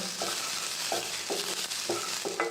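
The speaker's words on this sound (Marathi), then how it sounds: "आता यात मी या 2-3 हिरव्या मिरच्या आणि 3-4 लसणाच्या पाकळ्या टाकल्या. आता हे सुद्धा व्यवस्थित परतून घेणार आहे" Onion, green chillies and garlic sauté in a pan for a potato curry, with a soft continuous sizzle and a steady run of spatula scrapes and clicks about every half second, close and moderately loud.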